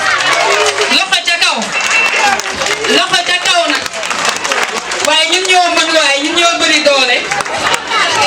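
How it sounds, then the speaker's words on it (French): A crowd claps for the girls at a school year-end ceremony, with loud continuous applause mixed with shouts and cheering voices throughout. "Des applaudissements pour les filles."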